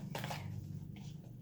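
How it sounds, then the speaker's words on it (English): Tarot cards are shuffled by hand during a reading, soft papery riffles and brushing strokes heard up close over a low steady hum, fairly quiet throughout. "Nope, keep shuffling."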